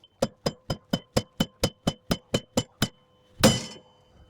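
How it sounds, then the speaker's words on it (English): Hammer striking the back of a seized wheel hub on a 2011 Chevy HHR to free it from the knuckle, twelve sharp metallic blows in quick even rhythm, then one heavier clanging hit, close and alone. "I usually start by hitting the back side of the hub, trying to separate it from the knuckle here."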